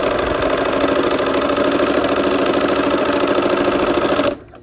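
A sewing machine stitches a quilt block for a kaleidoscope pinwheel pattern, running at a steady fast chatter, close and loud for about four seconds before stopping abruptly.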